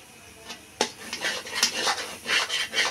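Egg curry (egg pickle) being mixed in a pan with cumin powder, coriander powder and salt gives close, repeated scraping and clinking strokes of a spoon, fairly steady and continuous, with no talk.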